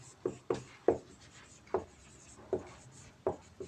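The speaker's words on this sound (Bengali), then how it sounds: "কালো কালি লিখি" Pen writing in black ink on paper, a run of soft scratchy strokes in an irregular rhythm, close and fairly quiet with no talk.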